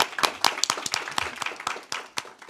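Applause from an audience at a Maryland State Board of Education meeting, a moderate scatter of individual claps in an irregular patter that rises and falls over a few seconds, fairly near and with no talk over it.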